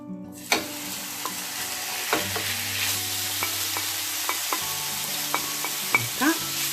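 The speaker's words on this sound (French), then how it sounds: "Dans une poêle bien chaude. Et je commence par mettre ma viande." Meat sizzling in a very hot frying pan for a meze-style kemia dish, a steady broadband hiss with occasional crackles and the scrape of stirring, close and continuous with no talk.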